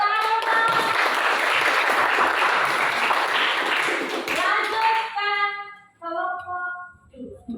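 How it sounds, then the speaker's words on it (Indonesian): Applause from an audience for a student presenter at a presentation session, dense group clapping for about five seconds, then thinning out into a few scattered claps and fading as a voice begins speaking. "Tepuk tangan."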